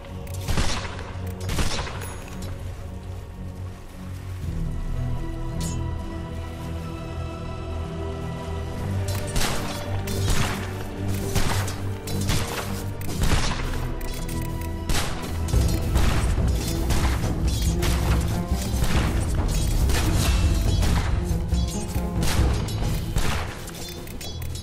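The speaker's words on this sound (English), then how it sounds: "Dire's middle tower is under attack" A Dota 2 battle rages around a middle tower under attack, a dense, loud stream of spell blasts, hits and crashing impacts layered over game music.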